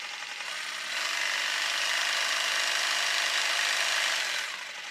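A Makita DJV181Z cordless jigsaw with a brushless motor runs nearby as a steady, fairly quiet whir that swells a little after the first second, holds for about three seconds, then drops back.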